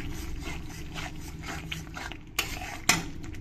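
A lid lifted off a pot of masala cooking in oil, heard as a soft stirring scrape and low sizzle followed by two sharp metallic clinks close by near the end.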